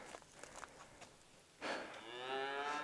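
Cattle lowing in the western Uinta mountains: one long, loud moo swells up after quieter background rustling and carries to the end, sounding fairly close.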